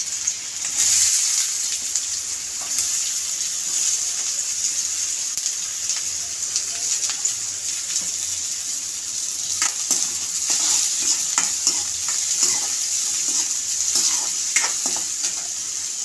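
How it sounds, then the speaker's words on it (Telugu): Finely chopped onion hits hot oil in a pan for a capsicum dish, producing a continuous close sizzle with scattered crackles and scraping stirs, loud and unbroken, with no voices. "ఆయిల్ వేడయ్యింది. ముందుగా సన్నగా తరిగి పెట్టుకున్న ఆనియన్ వేసుకుందాం."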